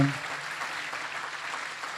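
A church congregation breaks into applause after a brief word from the preacher, a soft, even patter of many hands clapping.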